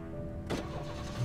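A car engine starts up in the Alan Wake video game, a brief broadband burst that settles into a steady low mechanical hum with a slight rise at the end.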